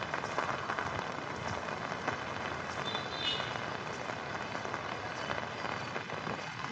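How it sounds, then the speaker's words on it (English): Heavy rain falls non-stop over a Saigon street, a dense, even hiss of downpour close by that holds at a constant level throughout, with no voices. "Saigon is still raining non-stop."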